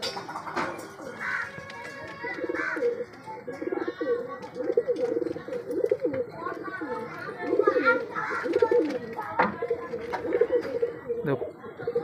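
Chhatiya pigeons coo repeatedly at a loft, the low rolling calls recurring throughout under someone speaking and children's voices nearby.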